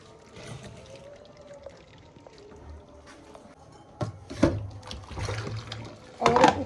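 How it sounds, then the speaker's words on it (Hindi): Cold water splashes from a vessel over drained boiled chicken in a home kitchen, a few short bursts of pouring and trickling near the end, close and moderately loud after a quiet stretch. "और ऊपर से मैं मार दूँगी इस पे पानी, ठंडा पानी।"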